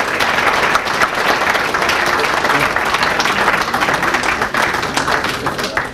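Steady applause from an audience at a Kharkiv sports development forum honouring organisers of city sports image projects, dense and continuous throughout with no pauses.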